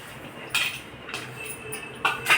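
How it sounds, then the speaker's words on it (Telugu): Curry leaves, coriander, dal and salt are being mixed for Telangana sarvapindi, with a few sharp, close clinks of a utensil against a bowl spaced across a couple of seconds. "కరివేపాకు, కొత్తిమీర, పప్పు, కొంచెం జీలకర్ర, ముక్కలు చేసిన ధనియాలు, సాల్ట్ తీసుకొని ఇందులో వేసి కలుపుకోవాలి"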